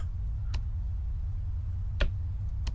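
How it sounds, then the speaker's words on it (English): Faint, sparse clicks from a mech's ejection mechanism in the Nauticrawl game, three short ticks spread apart over a steady low engine-like hum, with no talking. "that little clicking noise is the sound of the ejection thing coming up."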